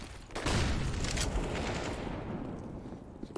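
Sustained automatic gunfire in a tactical shooter video game, a dense continuous burst of rapid shots that holds loud for a few seconds before tapering off, with no talk over it.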